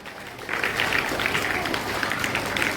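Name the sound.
students applauding to welcome a speaker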